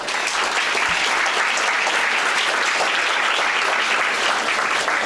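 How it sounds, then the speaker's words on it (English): A banquet audience at a union's 40th anniversary celebration gives sustained, loud, evenly dense applause that fills the whole stretch without pause. "I think you ought to give yourself a big round of applause"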